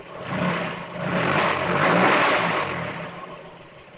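A sound-effect engine rumbles into life and keeps running as a broad, whooshing roar that swells, holds steady, then eases off over a few seconds. It is loud and close, with no voices.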